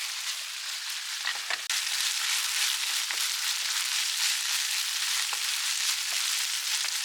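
Sake, doubanjiang and soy sauce stir-fried in a pan, giving a loud, steady sizzle and crackle with brief stirring scrapes throughout, alone with no voices.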